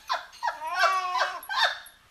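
A pet dog sounds off in a few short bursts, whiny yelps and a drawn-out whimpering bark, close by and fairly loud with short gaps between calls, and no talking.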